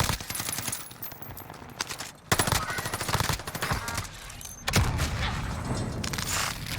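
MP40 submachine gun firing in a video game, dense close bursts of rapid automatic fire separated by two brief pauses, loud throughout with other shots mixed in.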